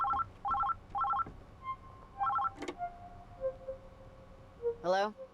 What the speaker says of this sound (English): 1 second, I'll answer the phone.